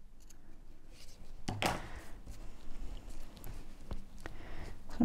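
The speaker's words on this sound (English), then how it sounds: "Even these scissors could do with a sharpen." Somewhat dull scissors cutting paper to width for a junk journal flap, a few sharp snips and crisp paper rustles, close and fairly quiet with no speech.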